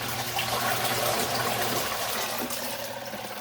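A Zokop portable washing machine churns water through its wash cycle, a steady close sloshing and swirling with a low motor hum underneath, continuous without pause.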